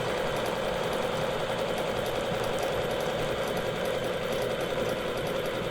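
A sewing machine runs steadily, stitching free-motion rulerwork along a Westalee quilting ruler, its close, continuous motor hum and rapid needle rattle holding unbroken and even throughout.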